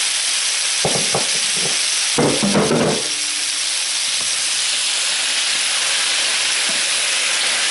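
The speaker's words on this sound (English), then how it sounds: "here comes the pork in some bacon grease with all that juice that it was sitting in" Pork in hot bacon grease and its juices sizzles in a pan as a steady broadband hiss throughout, with a few louder clattering stirs near the start before the frying settles into an even sizzle.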